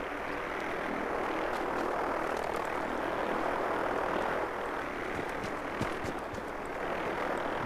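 Brotherhood of Steel helicopter flying in the video game Fallout 4, a steady loud rotor and engine roar with a broad rushing whoosh, sustained throughout with faint clicks.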